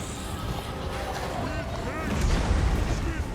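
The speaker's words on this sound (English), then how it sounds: "So they're going to sit back and fire away with the Hell Cannon." Deep booming cannon fire from a Hell Cannon rolls through a Total War Warhammer battle, heavy thumps building under dense battlefield noise and commentary.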